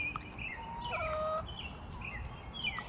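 Several Cornish Cross chickens cluck and murmur close by, with a few higher squawks rising over a soft rustling background.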